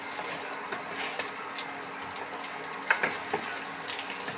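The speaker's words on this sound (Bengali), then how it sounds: "আলুগুলো ভেজে নিচ্ছে।" Potatoes fry in a pan as part of cooking an egg curry, a dense steady sizzle and crackle heard close up, with a few sharper pops and no talking.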